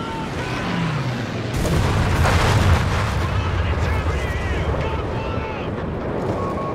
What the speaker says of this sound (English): dropping bombs